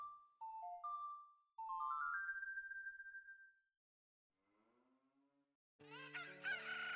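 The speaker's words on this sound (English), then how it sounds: "you can hear the crows of the roosters in the morning" A rooster crows in the morning in the video game Ocarina of Time. The loud, harmonic crow enters near the end, after a sequence of clear, synthesized melodic tones and a softer lower passage.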